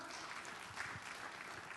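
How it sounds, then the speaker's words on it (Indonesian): A church congregation claps during a worship service, a short, soft patter of hands that stays faint and steady with no voices over it. "Tepuk tangan bagi Allah kita."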